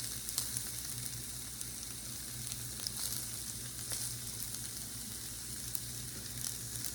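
Leftover onions, peppers and rice sauté in a pan for stir-fried rice, giving a steady low sizzle with faint crackles and occasional stirring scrapes and no talking.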